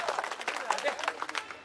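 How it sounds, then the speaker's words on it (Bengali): A crowd at a Metal Farmtech Limited farm equipment camping event claps in a brief, busy burst of applause, mixed with voices. "সবাই জোরে হাততালি"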